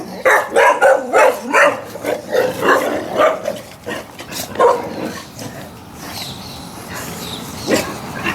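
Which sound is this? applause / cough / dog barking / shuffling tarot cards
dog barking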